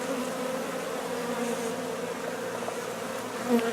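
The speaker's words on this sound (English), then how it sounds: "get the rest of these bees off and in the box." A dense, steady buzzing of many bees being removed from a water meter box, close and continuous, with a slight swell in pitch near the end.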